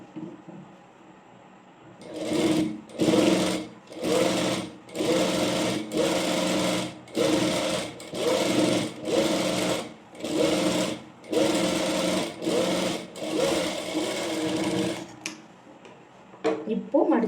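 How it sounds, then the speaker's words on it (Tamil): A sewing machine top-stitches an A-line frock in a tailoring lesson, running in about a dozen steady bursts of rapid whirring stitches, each separated by short pauses, loud and close, with brief handling noise at the end. "இப்போ நெக்ஸ்ட் நம்ம டாப் ஸ்டிச் போட்டுக்கலாம்"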